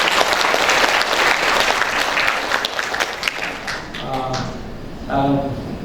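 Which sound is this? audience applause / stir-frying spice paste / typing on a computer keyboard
audience applause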